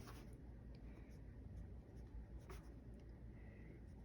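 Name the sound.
writing a title in a notebook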